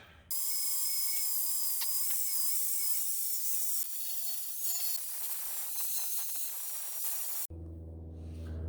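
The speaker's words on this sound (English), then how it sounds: "the grinding rock worked quite a bit better" A grinding stone working metal on a custom bumper, giving a steady, loud high-pitched whine and grinding that runs for several seconds before cutting off abruptly to a low hum.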